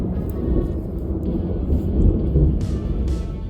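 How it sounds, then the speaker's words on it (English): Thunder rolls low and heavy during a storm, a deep continuous rumble swelling and fading in waves, with a few sharp higher sounds nearby, loud and unbroken for the whole stretch. "You guys may be able to hear the thunder rolling in the background there."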